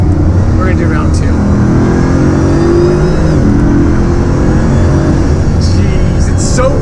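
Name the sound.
Bugatti Veyron accelerating at full throttle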